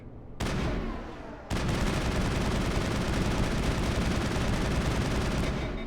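Relentless rapid automatic gunfire from Mass Effect, starting abruptly after a brief pause and then hammering on continuously and loudly in sustained bursts, dense and close with no talking over it.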